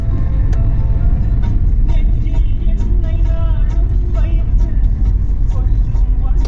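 A car driving along the road to Tirupati, with a continuous low road and engine rumble heard from inside the vehicle while people talk over it.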